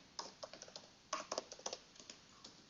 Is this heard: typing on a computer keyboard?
yes